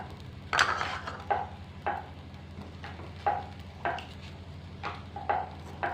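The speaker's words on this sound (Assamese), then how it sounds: "মই আৰু এখন আলু পৰঠা দি দিলো টাৱাখনত আৰু অকমান তেল দি দিলো যাতে ই লাগি নধৰে।" Aloo paratha cooking on an oiled tawa, with a quiet sizzle under a run of soft scraping and tapping strokes, roughly every half second to second, close and gentle.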